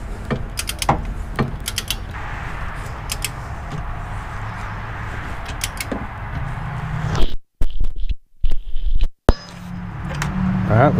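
A ratcheting wrench clicks and grinds while rear strut bolts are torqued on a 2003 Mazda Protege, metallic mechanical noise close by, broken by brief silent gaps, with a person talking over part of it.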